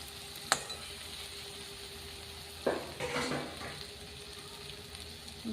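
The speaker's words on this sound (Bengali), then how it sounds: "এই সময় আমি চিংড়ি মাছগুলো দিয়ে দেবো।" Prawns go into a pan of well-fried masala for chingri malai curry. A quiet, steady sizzle is broken by a sharp clink, then a louder burst of frying and stirring as the prawns hit the pan.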